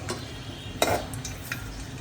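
Black cardamom and two cinnamon sticks dropped into lightly heated oil, a soft frying hiss with a sudden crackling burst of spitting and a couple of brief stirring scrapes over about two seconds.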